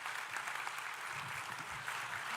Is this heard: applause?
yes